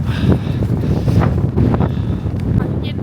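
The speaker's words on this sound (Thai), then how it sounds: "แล้วลมแรงมาก" Strong, cold wind blusters across an open New York waterfront with snow on the ground near the Statue of Liberty, roaring steadily into the microphone while people talk faintly underneath.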